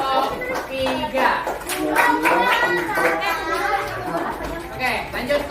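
A classroom of fifth-grade primary school children chatters while clapping rises and falls, with voices of kids and an adult talking over the applause for a group.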